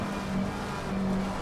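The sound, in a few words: race car passing, from the video game Assetto Corsa Competizione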